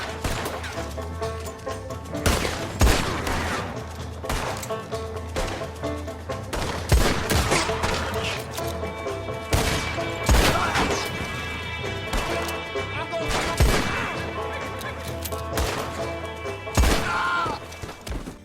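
Gunfire in Red Dead Online during a farm ambush: scattered sharp gunshots crack at irregular intervals amid a busy game soundscape, with chickens clucking in the background.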